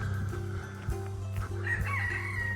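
Farmyard chickens cluck steadily while a rooster crows repeatedly, the calls close and overlapping, with a brief burst of higher crowing near the end.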